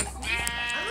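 A sheep in a farming video game lets out a single short, close bleat.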